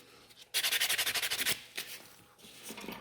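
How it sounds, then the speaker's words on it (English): White buffer rubbed fast over fiber gel fingernails, a rapid series of about a dozen scratchy strokes followed by a few slower, softer passes, close and quiet with no voice. "white buffer, and I'm just going all over like this, quite nice and fast"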